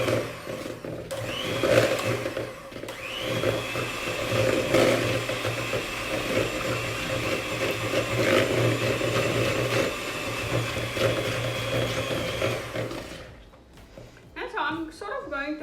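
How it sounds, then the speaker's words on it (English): An electric hand mixer whirs steadily through butter for about thirteen seconds, a continuous mid-loud motor drone with slight wavering as the beaters move, then cuts off, leaving near silence and a few faint clicks. "for today's recipe, we're using an electrical hand mixer"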